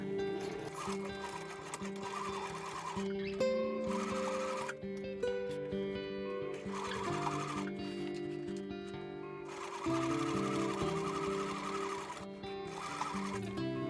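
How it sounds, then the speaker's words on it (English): A sewing machine stitches a kimono obi bag with a denim needle, running slowly in several separate bursts over a steady tonal background. "Even though I'm using a needle made for denim, I had to sew really slowly to avoid breaking it."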